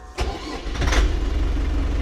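A KENTAVR 404 tractor's four-cylinder engine cranks and catches, then settles into a steady, low rumbling idle, close by and fairly loud.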